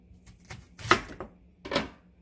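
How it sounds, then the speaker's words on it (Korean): A knife roughly chops half an onion in a few uneven strokes, crisp thuds on a board with short pauses between cuts. "반 개를 대충 이렇게 슬렁슬렁 썰어서 갈아지기 좋게요."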